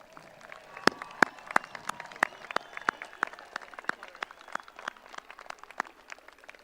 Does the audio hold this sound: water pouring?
no